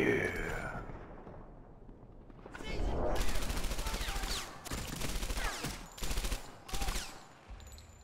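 Gunfire in the Medal of Honor video game erupts as sharp bursts and single loud shots, some with an echo, after a brief quiet stretch with a sigh-like breath.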